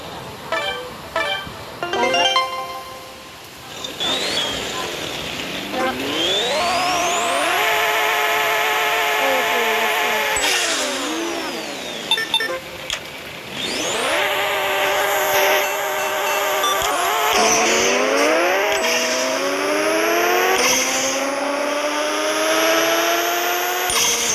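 A car driving along, its engine revving and gear changes rising and falling in repeated sweeps, steady and close throughout with no talking.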